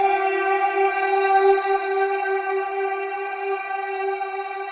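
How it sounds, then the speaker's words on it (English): A long, drawn-out synth lead from the Tropicana Serum patch, smeared with heavy delay and an ambient effect, rings steady and fairly loud with sustained tones and echoing tails throughout, no voices present. "this lead sounds like this, kind of like a long drawn out lead with a ton of like delay on it and stuff"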